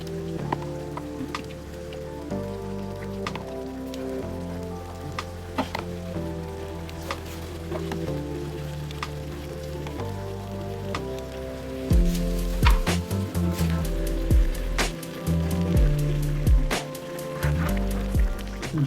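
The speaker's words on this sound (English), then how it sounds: "Stew is ready. I'm just going to let it simmer for a bit" A pot of stew with meat stock simmers on the stove, a low bubbling and spattering that grows louder and busier partway through, with sharp pops and crackles near at hand.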